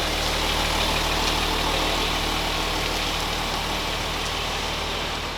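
A Lada Niva's engine runs steadily and loudly as the car pulls out of a workshop, a continuous close rumble with broadband roar that eases off slightly toward the end.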